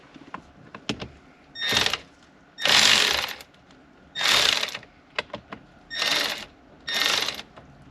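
A ratchet backs out 5.5 millimeter bolts from beneath a 2020 Ford Super Duty steering column, giving five short bursts of rapid clicking close up with faint taps between them.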